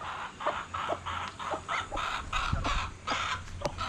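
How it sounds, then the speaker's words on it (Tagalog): Chickens about six months old cluck in short repeated bursts at an irregular rhythm, fairly close, over a low steady background hum with no talking. "Etong mga manok natin guys"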